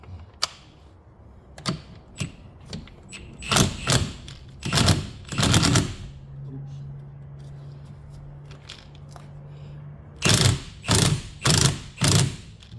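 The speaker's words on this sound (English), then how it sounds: "you start backing out these spring compressors, and it starts shifting the head and the spring" Spring compressors are slowly backed out on a Jaguar F-Type R front strut, giving a string of close, sharp ratcheting clicks and bursts in uneven clusters, with a quieter steady hum in between.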